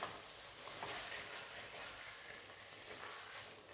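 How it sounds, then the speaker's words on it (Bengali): Elephant foot yam pieces frying with spices in a pan, a steady soft hiss and sizzle with faint stirring, close and alone. "এটাও একটু 2-3 মিনিট একটু মশলার সঙ্গে কষে নিতে হবে।"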